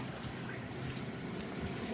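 Strong, cold wind blows outdoors beside the water, a steady, broad rushing roar with wind buffeting the microphone. No voices are heard.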